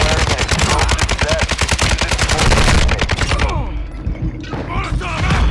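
Video game gunfire, dense rapid automatic bursts hammering nearly nonstop, loud and close, then a short lull before more shots, with faint voices under the shooting.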